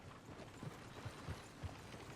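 Horses in Red Dead Redemption 2 clip-clop faintly, with a few soft, irregular hoof thuds against a low background hum and no talking.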